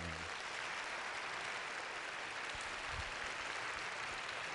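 A church congregation bursts into sustained applause, a dense, even wash of many hands clapping through the whole stretch, fairly distant and steady.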